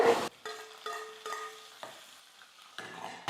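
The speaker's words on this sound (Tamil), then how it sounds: "உளுத்தம்பருப்பு கடலைப்பருப்பும் நல்லா வறுப்பட்டு வந்துருச்சு" Urad dal and chana dal crackle and sizzle as they roast in a hot pan while a spoon stirs and scrapes in short, uneven strokes.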